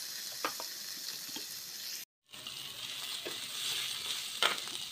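Garlic, onion and lemongrass sautéing in a pan, a steady close sizzle and crackle with brief stirring scrapes, cut by a short silent gap midway before the frying resumes.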